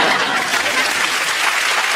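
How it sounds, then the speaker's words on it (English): An audience at a comedy TV show breaks into loud, sustained applause for an onstage helper, a thick continuous wash of clapping filling the room without pause. "please, a big round of applause for my special helper tonight"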